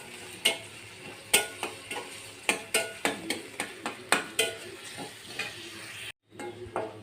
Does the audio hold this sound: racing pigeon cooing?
no